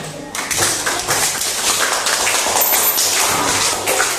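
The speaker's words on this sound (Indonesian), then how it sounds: "Tepuk tangan untuk kita semuanya." A room of people applauds together after a practical class session, with dense, continuous hand clapping that starts abruptly and keeps going at an even level.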